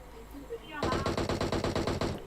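Rapid automatic gunfire in the mobile battle-royale game PUBG Mobile, a loud burst of evenly spaced shots that starts abruptly and runs steadily for about a second and a half, close and dominant.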